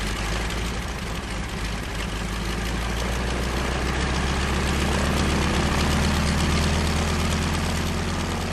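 Propeller engine of a 1930s airplane with fabric-covered wings, flying over the Sahara: a loud, steady, low droning roar that holds continuously and close, with no voices.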